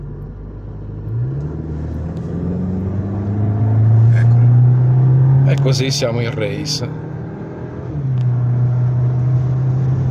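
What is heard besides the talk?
Cupra Formentor 2.0 TSI engine accelerating and revving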